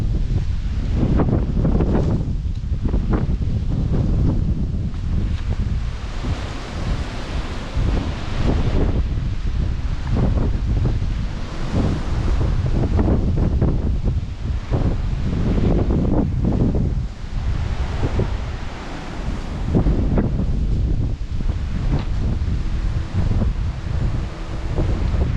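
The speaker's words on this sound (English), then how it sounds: "So you have heavy wind." Heavy, continuous wind in St. Elizabeth, Jamaica, after Hurricane Beryl, roaring loudly into the microphone with constant rustling and buffeting for the whole stretch.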